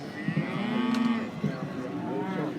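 A Red Angus calf mooing in a stud beef judging ring at the Ekka show, with two drawn-out, fairly loud lowing calls over a steady background murmur.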